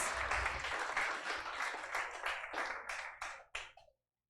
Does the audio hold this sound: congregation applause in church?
yes